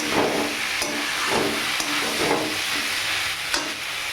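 Figs and potatoes being stirred and fried in a pan, a steady sizzle with repeated scraping strokes of the spoon, close and alone.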